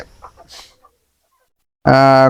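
A rooster on a poultry farm gives a loud, harsh call near the end after a pause, following a few soft voices and rustling at the start.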